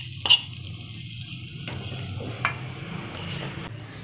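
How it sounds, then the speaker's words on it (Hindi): Browned onion tempering poured into a pot of chana dal, giving a soft, steady sizzle with a couple of brief clinks from the pan, heard alone and fairly quiet. "प्याज हमारी ब्राउन हो गई है, बघार हमारा तैयार है। अब हम दाल में डाल देंगे।"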